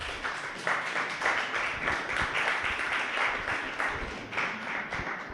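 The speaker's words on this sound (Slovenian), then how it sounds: "En aplavz." An audience at a Slovenian startup event applauds guests joining the host on stage, a dense, steady wash of clapping from many hands sustained for about five seconds.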